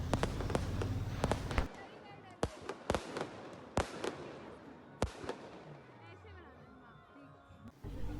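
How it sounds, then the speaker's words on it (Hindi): Fireworks burst in a series of sharp, loud bangs at irregular intervals during a Chhath Puja night festival, with crackling and a murmur of distant voices between blasts. "अंधेरा और बढ़ गया था और आतिशबाजी और ज़्यादा तेज़ हो गई थी"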